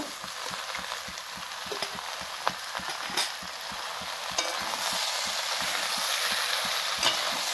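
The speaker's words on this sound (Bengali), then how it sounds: "এখন ভালো করে লাড়াচাড়া করে এটা মিশিয়ে নেব।" A spoon stirs jackfruit and prawn curry with sour yogurt in a frying pan, making rhythmic scraping strokes over a constant bright sizzle. The sound is close and fairly loud, with no voices.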